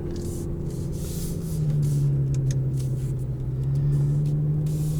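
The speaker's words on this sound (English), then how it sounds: "Twin turbo V12." Twin-turbo V12 of a 2020 Aston Martin DB11 AMR droning steadily from inside the cabin while driving, a loud low hum that swells and settles as the revs rise and hold, alone without talk.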